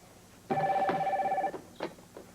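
A telephone rings once, a loud steady electronic tone lasting about a second, followed by faint clatter and quiet room sound.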